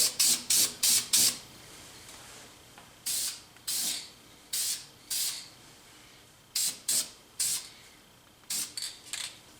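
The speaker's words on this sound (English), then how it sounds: "I'm going to spray it with a little black paint to keep the rust at bay" Short bursts of black spray paint hissing from a can onto metal on a 4x4 fender, repeated in clusters with brief pauses between, close and fairly loud.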